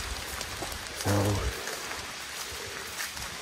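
Steady rain falls outdoors in the Pennsylvania woods on the opening day of muzzleloader season, a continuous close hiss of drops throughout, with someone briefly speaking over it.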